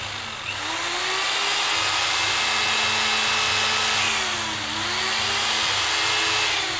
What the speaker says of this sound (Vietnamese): cưa lộng.